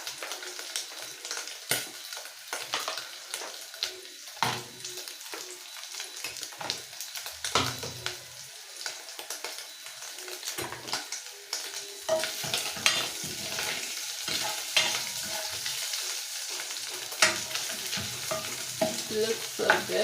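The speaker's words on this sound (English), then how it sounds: "We're gonna let it fry for like 2 minutes with the oil." Beef sizzles in oil in a pot for a gentle beef stew, a continuous crackling fry broken by irregular stirring scrapes and spoon knocks that grow busier toward the end.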